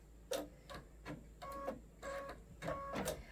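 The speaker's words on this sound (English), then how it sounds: "your machine sews in circles" An embroidery sewing machine stitching a circle gives a quiet, uneven run of mechanical whirs and short tonal buzzes as the hoop shifts, each burst a fraction of a second, with no voices.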